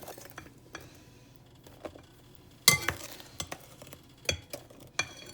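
Eggless vanilla cake batter of flour and milk being stirred in a bowl, quiet scraping punctuated by sharp clinks of a utensil against the bowl at irregular intervals.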